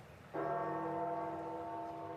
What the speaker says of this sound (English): I am overlooking St. Peter's Square just behind me, and you'll hear gongs of the bell.